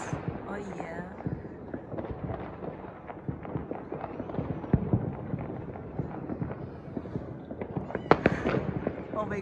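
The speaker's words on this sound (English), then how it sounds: "That's the fireworks, guys." New Year's Eve fireworks over a backyard in Germany, a dense, continuous crackle of firecrackers and bangs at mid distance, with people talking over the barrage.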